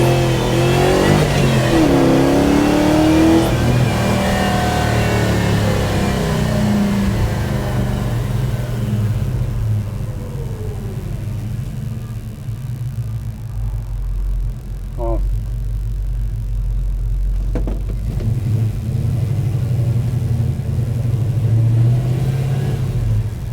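A 1966 Beaumont's 283-crank, 400-block V8 with a 680 CFM carburetor revs and rumbles loudly, swelling and settling through a long steady run up close.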